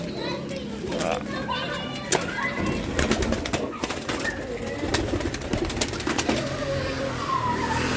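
Racing pigeons are tossed for release at a training session in Talavera, Nueva Ecija, with wing flaps and bird sounds amid children's voices, people talking and passing traffic outdoors.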